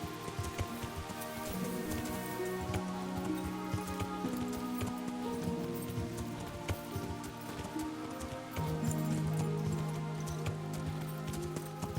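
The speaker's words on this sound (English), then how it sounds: "Yeah, the rain is definitely not helping." Steady rain falls throughout in Kingdom Come: Deliverance, a continuous dense patter spread under layered game music and ambient tones, with no clear gaps.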